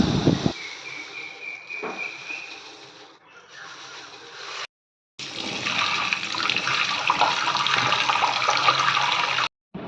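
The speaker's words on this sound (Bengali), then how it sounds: "মসুরির ডালটাকে খুব ভালোভাবে ধুয়ে নিচ্ছি" Water running and splashing while red lentils (masoor dal) are washed in a bowl, a steady hiss of tap water with sloshing, cut by two short silent gaps, no talking.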